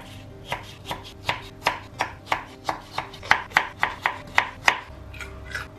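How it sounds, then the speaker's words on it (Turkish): Rhythmic knife chops on a cutting board as radishes are cut for kimchi, about a dozen crisp, evenly spaced strikes, close and clear with no talking. "Sonra turpları bu şekilde diziyoruz ve uzun uzun doğruyoruz."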